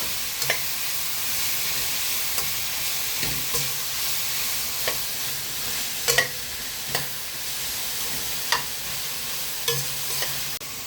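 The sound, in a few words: radish and onion greens stir-fried in a pan, sizzling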